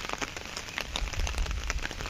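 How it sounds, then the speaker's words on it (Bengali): Rain falls steadily on the ground and on surfaces in a village, making a close patter of dense drops with no voices. "বৃষ্টি পড়ছে এখনো।"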